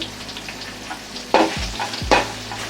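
Sliced green chillies fry in oil over a low flame for mango rice, with a continuous sizzle broken by two sharp, loud spoon-against-pan scrapes, close up and with no talking.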